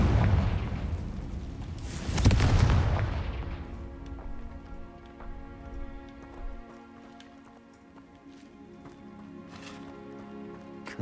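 A Confringo fire spell erupts in Hogwarts Legacy as one heavy, close blast that swells and rumbles, then fades into a long tail over soft, sustained game music.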